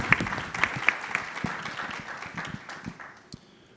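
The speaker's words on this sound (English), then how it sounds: "we want to give a round of applause" A crowd claps in a sustained round of applause that gradually thins and fades out over a few seconds.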